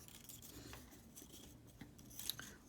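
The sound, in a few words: scissors cutting paper quilling pieces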